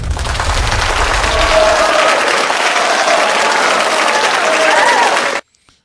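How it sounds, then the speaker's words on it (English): Sustained crowd applause plays loud and even for over five seconds, with a low rumble at the start, then cuts off abruptly into silence. "round of applause Jesus again"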